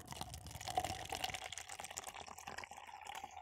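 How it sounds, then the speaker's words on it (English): Kahlua nitro cold brew pours from a can into a glass, a faint, continuous bubbling liquid splash lasting a few seconds, close and alone. "If it says nitro on it, I think usually they want you to like pour it in."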